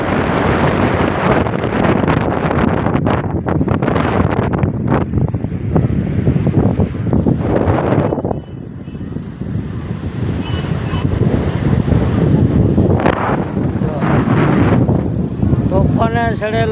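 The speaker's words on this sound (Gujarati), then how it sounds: "તોફાને ચડેલો દરિયો" Rough, storm-driven sea surf pounds the coast near Gopnath Mahadev, a loud continuous wash of breaking waves with heavy wind buffeting the microphone, briefly easing midway before surging again.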